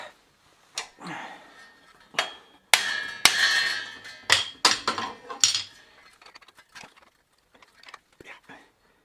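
A pressed-in bicycle bottom bracket being hammered out in a workshop, with sharp metallic hammer strikes and clinks, irregular and close, some in quick clusters, separated by near-silent pauses.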